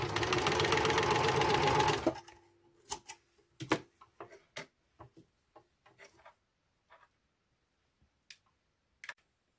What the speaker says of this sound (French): Et maintenant, on va coudre ces trois petits morceaux-là.